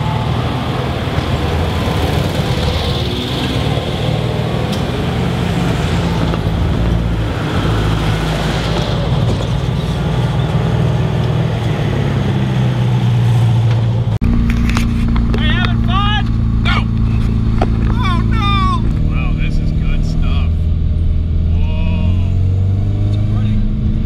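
A Datsun car drives along twisty roads on a long road trip, its engine a steady loud drone with shifting tones as it works through bends, while voices talk over it in the second half.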